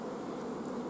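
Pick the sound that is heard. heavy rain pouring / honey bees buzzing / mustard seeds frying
honey bees buzzing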